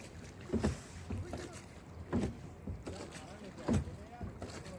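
A boat moves along a river. Water sloshes against the hull in rhythmic surges about every second and a half, over wind noise and faint voices.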